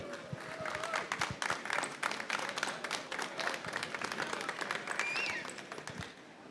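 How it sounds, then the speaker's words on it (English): A live studio audience applauds artisans after an art-making session, a dense, steady run of many hands clapping at moderate level, with a few faint voices mixed in. "can we give our artisans a round of applause for their work?"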